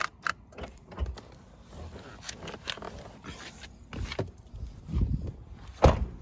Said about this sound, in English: If you want to open the fuel door, it's right here.